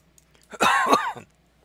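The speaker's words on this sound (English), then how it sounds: "Cough has been particularly bad of late." A single short cough from a man in the middle of playing an online role-playing game, close and fairly loud against a quiet background.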